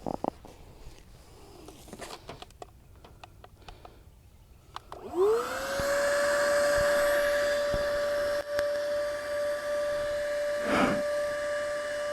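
An electric air pump switches on and runs steadily, a loud continuous whine with a droning hum, inflating an INTEX Excursion 5 inflatable boat through its Boston valves; scattered handling clicks come before it starts.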